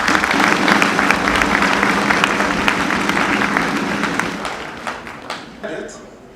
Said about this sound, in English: Can all of us clap for our chief guest?